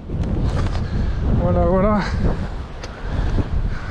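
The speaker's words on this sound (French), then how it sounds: "j'aurais le vent latéral, ça c'est un peu galère" A strong crosswind blows across the microphone on a boat during mackerel fishing with jigs, a loud continuous rumbling buffet throughout, while someone speaks briefly over it.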